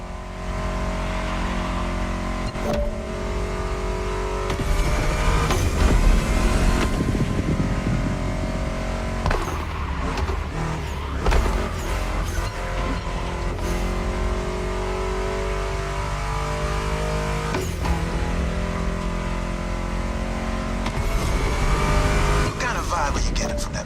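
A powerful Ford Mustang GT muscle car engine in The Crew video game roars and revs continuously alongside driving music, with gear shifts and surges in pitch over a steady loud mix.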